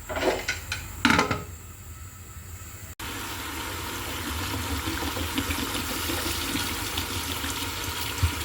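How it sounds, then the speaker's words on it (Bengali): Water poured into a pot of chicken broth for Sri Lankan chicken biryani gives a steady, close rushing splash that runs on for several seconds after a few brief clanks of the pot. "আধা লিটার পানি দিলাম, আরও 1 লিটার দেওয়া লাগবে আমার"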